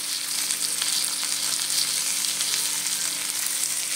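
Vegetables seasoned with salt, turmeric and cumin being stirred in a frying pan, with a loud, steady hissing sizzle throughout and faint stirring scrapes mixed in.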